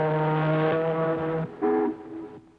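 A voice imitating an ocean liner's horn gives two sustained, tonal blasts: a long low one, then a shorter one after a brief gap.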